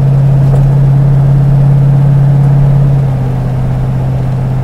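Car cruising on the road at about 70 mph, a loud, steady low hum of engine and road noise that eases slightly toward the end, with no talking.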